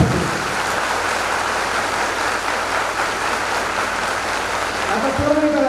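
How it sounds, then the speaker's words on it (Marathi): Girls in a student audience at a Baramati science academy programme clap loudly for the staff, a steady, dense roar of hands close and unbroken throughout, with a brief voice near the end. "चला पोरींनी एकदा जोरदार टाळ्या वाजवायचा सर्व स्टाफसाठी."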